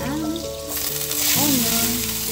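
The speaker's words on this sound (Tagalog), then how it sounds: "At olive oil, then the butter." Butter melting into olive oil in a hot pan gives a steady bright sizzle, with some faint tonal background sounds mixed in.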